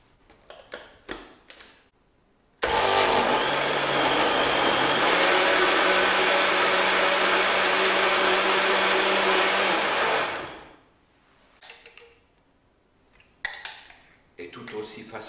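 A Betty Bossi MixFIT Power blender mixes eggs, milk and flour in a loud, steady whir lasting about eight seconds, with clicks and handling noises before and after it.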